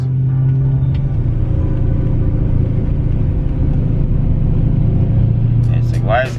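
A BMW M3 with a failing throttle actuator and thermostat drives sluggishly on the road, giving a steady low engine drone and road rumble throughout, with a brief higher noise near the end.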